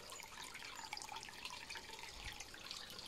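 Water from a natural spring runs in a steady, soft, hissing flow with a light trickling texture, faint and even throughout, with no voices.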